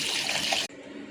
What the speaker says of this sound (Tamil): சேர்ந்து மிக்ஸ் பண்ண பிறகு நம்ம தண்ணி ஊற்றிக்கலாம்.